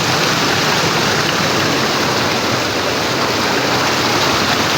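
A strong stream swollen by rain in Southern Leyte rushes in a dense, continuous roar, close and loud, with no voices over it.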